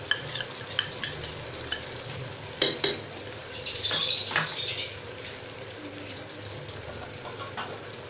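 Ginger-garlic paste and ground coriander stirred into a hot pan for Lahori chickpeas, a steady soft sizzle with scraping spoon strokes and a few sharp clinks, close and alone without talk.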